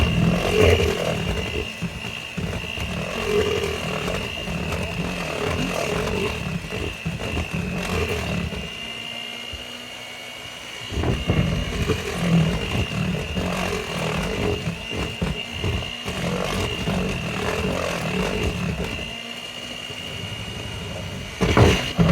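An electric mixer beating chocolate cupcake batter with milk gives a steady, continuous motor whine and grinding churn, loud and close for the whole stretch, dipping briefly midway, with no talk.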